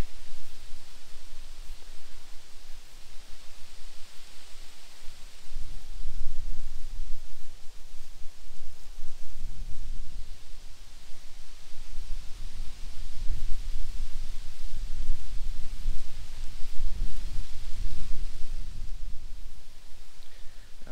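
Lawn sprinklers spray water across a clover-filled yard, a continuous broadband hiss with periodic low swells as the spray sweeps around, steady and fairly close with no voices.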